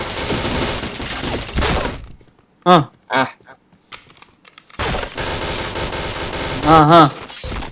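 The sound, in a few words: gunfire in video game Point Blank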